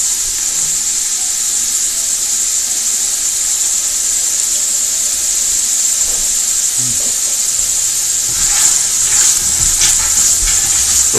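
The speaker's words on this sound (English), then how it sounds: "So we're just going to saute the vegetables a little bit." Vegetables sauté in a hot pan for a beef and barley soup, a loud, constant sizzle and hiss filling the sound, with occasional soft clinks and stirring scrapes near the end.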